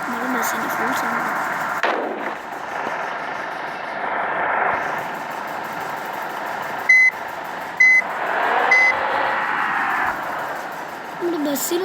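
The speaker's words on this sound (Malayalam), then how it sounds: "ബസ്സിൻ്റെ ഫുൾ സൗണ്ട്." A bus engine runs with a steady, loud, broadband rumble throughout, joined by a few short sharp beeps in the middle, while voices talk over it.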